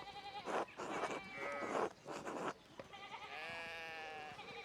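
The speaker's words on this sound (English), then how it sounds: "we need to get these sheep under the control" Sheep bleat in the video game Pentiment, several clear, wavering calls following one another with short gaps, then a longer drawn-out bleat near the end, close and fairly loud with no talk.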